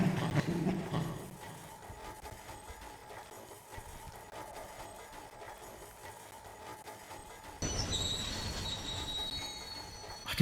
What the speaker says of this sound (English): The tram car will take me to the surface safely.